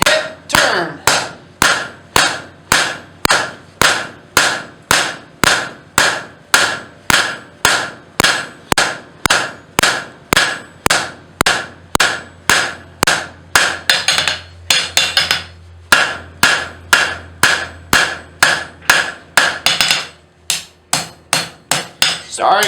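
A hammer strikes hot steel on an anvil while forging a rose stem, with a long run of sharp, evenly spaced ringing blows in a steady rhythm, close and loud, and a brief pause near the end before a few more hits.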